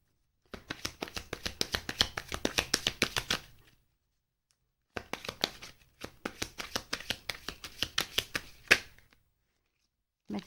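Tarot card deck being shuffled close up in two bursts of rapid riffling clicks, each lasting about three to four seconds, separated by a short pause.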